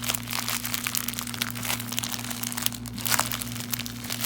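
Packing tape being picked at and peeled off a package, with soft crinkling and scratchy tearing bursts at close range over a low steady electrical hum.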